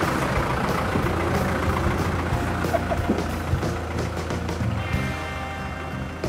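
A steady, loud low engine rumble from a Mitsubishi Rosa tourist bus and a Toyota four-wheel-drive van loaded with food and luggage, droning continuously close by with faint higher mechanical whine layered over it.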